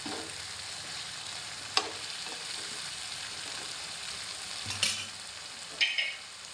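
Mutton frying in a pan while it is stirred, with a soft continuous sizzle broken by a few scraping, clinking strokes of the spoon, close and fairly quiet.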